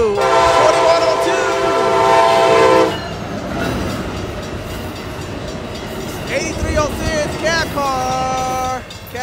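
An Amtrak passenger train hauled by an SC-44 Siemens Charger locomotive sounds a loud, sustained horn blast up close, then rumbles past with rolling wheel noise and shorter horn toots near the end.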